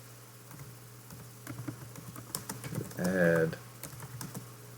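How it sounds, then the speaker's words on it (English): Typing on a computer keyboard, a run of light, quick clicks under a steady hum, with a brief burst of speech partway through. "what I'm going to do is type this."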